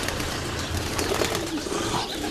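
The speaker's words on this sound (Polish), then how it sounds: "Także, tak gołąbki sobie tutaj siedzą." Racing pigeons settled in an aviary loft cooing softly, low murmuring calls rising over a noisy, hissy background, continuous and moderately close.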